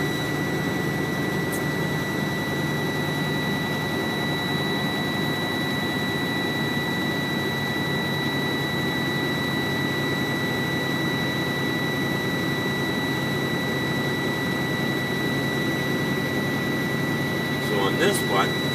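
A truck engine revs up to about 1200 rpm to build air brake pressure to 90 psi, a loud, steady droning roar with a constant whine on top, holding unchanged close by.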